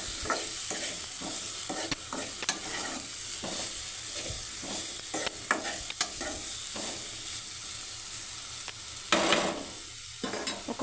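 Carrot curry is stirred in a pan just after salt goes in: a spoon scrapes and knocks in repeated strokes over a constant bright sizzle, close and fairly loud, with no voices.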